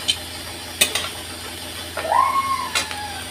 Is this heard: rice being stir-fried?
yes